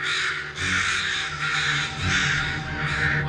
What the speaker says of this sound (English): The first one that sees her sounds the alarm. The flock erupts in protest.